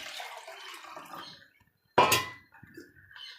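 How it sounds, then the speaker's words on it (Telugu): Water is poured into a pot of country rooster (natu kodi) curry. A faint liquid trickle comes first, then a short gap, then a sharp metallic clang and splash. A little quiet rattling follows. "కూరకు సరిపడినంత వాటర్ పోసేసుకుందాం"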